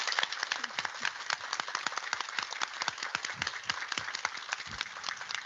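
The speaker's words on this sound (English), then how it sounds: "I hope that you can hear a very warm applause from the earth up to you" Dense, warm applause from a crowd of people on Earth, honoring an astronaut speaking with Nobel Prize laureates; the crisp, overlapping claps run steadily at moderate volume, with no talking over them.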